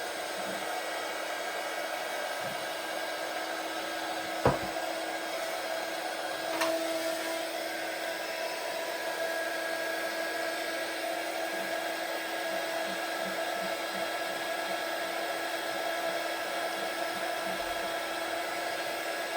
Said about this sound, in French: je vais m'occuper de lisser la surface des bougies avec le pistolet à colle